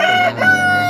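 A rooster crows close by in one brief, loud, strained call.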